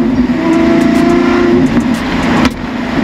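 Twin-turbo Lamborghini Huracan Performante rated at 1438 bhp cruising, its steady engine drone loud and continuous with a brief shift or dip near the end, heard from close inside or beside the car without speech.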